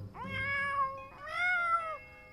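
A cat gives two clear, drawn-out meows in quick succession, close and fairly loud, over a quiet low background hum.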